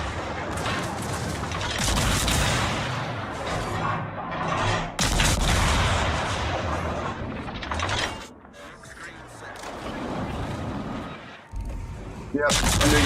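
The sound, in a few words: naval gunfire firing HE shells, World of Warships video game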